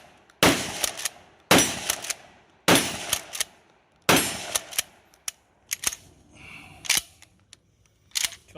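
Short-barreled shotguns, a Vang Comp 870 and a Vepr 12, firing four loud, evenly spaced booming shots, then quieter clacks and sharp metallic handling sounds, heard close with no talking.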